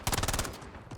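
Rapid bursts of gunfire from the video game Palworld, a loud close run of shots crowding the first half second and then trailing off.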